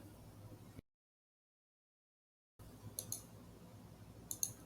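A few faint, sharp mouse clicks sound in a quiet room, separated by a stretch of complete silence.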